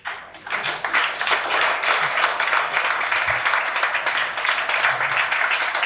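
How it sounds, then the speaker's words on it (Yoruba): An audience stands and applauds its teachers at a Yoruba-language school debate competition, with steady, dense clapping that rises quickly and continues throughout. "ẹ jẹ́ ká dìde ká pàtẹ́wọ́ fún àwọn olùkọ́ wa"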